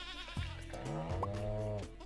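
Farm goats in the Stardew Valley video game bleat in a quick run of wavering, nasal calls, close and clear, with no talking over them.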